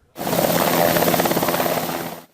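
A Coast Guard rescue helicopter or air ambulance thunders steadily overhead with a rapid rotor chop, loud and sustained throughout, fading in and out at the edges with no voices.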